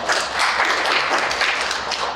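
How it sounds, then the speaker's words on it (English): An audience at a Cleveland Heights charter review commission meeting applauds, a dense, continuous wash of many hands clapping close by and steady in loudness throughout. "let's give them a round of applause"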